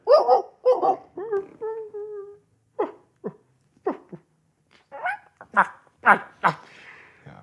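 A human voice imitates a distant dog barking, with short yaps, a drawn-out whine and breathy bursts, each call separated by brief silences.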